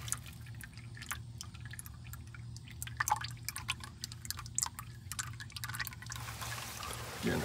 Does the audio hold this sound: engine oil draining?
yes